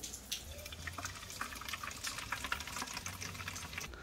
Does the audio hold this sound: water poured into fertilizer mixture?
yes